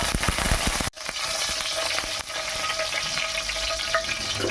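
Loud, steady sizzling and crackling of curry leaves frying in hot oil, with a sharp snap near the start.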